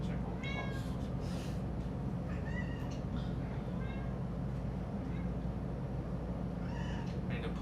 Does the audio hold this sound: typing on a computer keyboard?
no